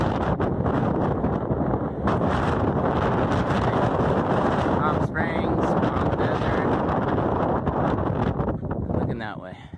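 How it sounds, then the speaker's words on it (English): Strong, steady wind roars and buffets the microphone throughout on a mountain ridge on the backside of San Jacinto along the Pacific Crest Trail, with a voice briefly speaking under the gusts. "It's so windy right here on top of this ridge."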